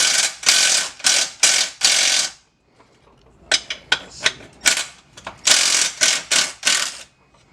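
A ratchet wrench loosens an exhaust nut on an Audi B8 S4 during an AWE exhaust install, giving bursts of rapid, close, loud clicking strokes with a short pause between groups.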